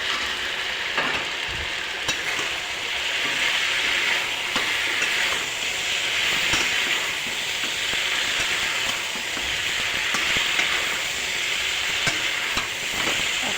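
Tomatoes and lentil fritters sizzle and fry steadily in a pan, a loud, even hiss throughout with occasional scraping and clicking from stirring.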